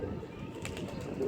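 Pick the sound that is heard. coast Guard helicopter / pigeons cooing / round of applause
pigeons cooing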